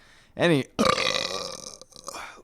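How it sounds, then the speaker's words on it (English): A loud, drawn-out belch with a wavering pitch, followed by a long, rough, croaky burp that trails off, close to the mic. "I got the belch on and everything"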